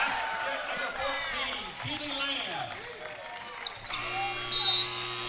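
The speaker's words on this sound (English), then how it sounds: "Shot comes after the buzzer." A basketball game's end-of-quarter buzzer sounds as a loud, steady electronic tone for the final second and a half, following a stretch of crowd noise, squeaking shoes and play-by-play commentary.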